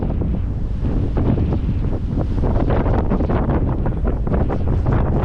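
Strong wind buffets the microphone on a ferry deck crossing to Denmark's Jutland peninsula, a loud continuous roaring rumble with gusty flutter and possible sea and engine noise beneath, no voices.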